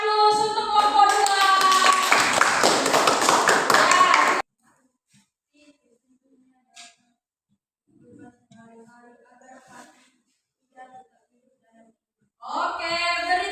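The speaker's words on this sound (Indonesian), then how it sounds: "beri aplaus untuk kelompok 2" Classroom students applaud group 2 in a short, loud burst of clapping and voices lasting about four seconds, followed by quiet with scattered low speech and another burst of noise at the end.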